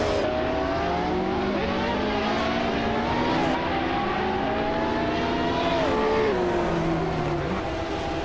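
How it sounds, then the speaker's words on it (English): Engines of GT1-class race cars, led by a 1996 Lamborghini Diablo, roar together at the start of a video-game race at Barbagallo, a dense, steady blend of rising and shifting engine tones at constant loudness without speech. "The race is underway at Barbagallo, and starting on pole is the GT1 Aerotech class car, a 1996 Lamborghini Diablo d'Oro Giuta."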